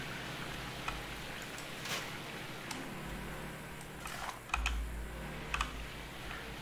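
Computer keyboard and mouse in use while playing Gold Rush: The Game, with quick, light key clicks and taps scattered across a few seconds, close and fairly quiet with no talk.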